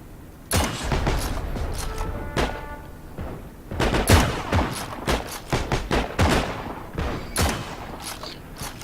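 Gunfire in the Heroes and Generals video game, with repeated sharp shots at an irregular pace, loud and close, several overlapping in quick bursts like a fusillade rather than single spaced sniper rifle cracks.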